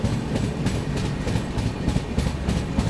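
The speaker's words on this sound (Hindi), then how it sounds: "आप लोग पैसेंजर ट्रेन आते हुए देख रहे हैं" A passenger train runs along a railway line near a junction station in heavy monsoon rain, its wheels clicking in a steady rhythm under a loud, continuous rumble.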